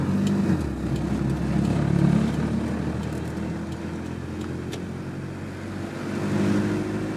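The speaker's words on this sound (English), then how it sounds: "sorry about all the wind noise" Rushing wind fills the cab of an 88 to 97 Toyota pickup driving with its windows down, a steady broadband roar over the low drone of the engine, close and continuous.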